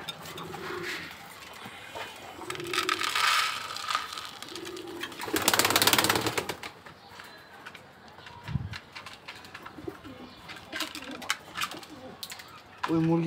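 Pet pigeons with clipped wings in a home coop, soft repeated low cooing in short bursts, close and moderately quiet, with a mechanical rattling passage and other background sounds between the calls.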